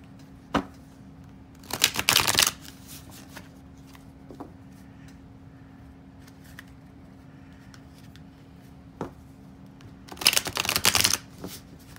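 Tarot cards shuffled on a table that shakes, two short bursts of rapid riffling flutter separated by quiet stretches with a few soft taps and a faint steady hum.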